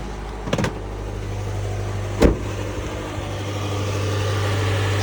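A car cranks and fires up after a jump start from a Hulkman Alpha Pro jump starter. Two sharp clunks come first, then the engine settles into a steady, low idle rumble.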